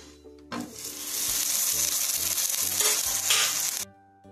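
A methi paratha sizzling in ghee on a hot pan, loud and close, a steady bright frying hiss that starts suddenly, holds for about three seconds with faint stirring scrapes, then cuts off.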